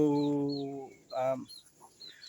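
A chicken clucks and calls nearby in short bursts, with a few softer chirps and some faint background noise between them.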